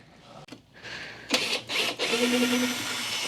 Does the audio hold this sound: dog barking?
no